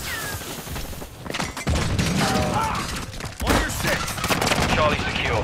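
Gunfire in Call of Duty: Modern Warfare II, bursts of shots and mechanical clatter in a busy online match, with game voice lines and a player talking over it.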